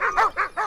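A dog sled team's dogs give four quick, sharp, close barks in a steady rhythm, heard alone and clearly.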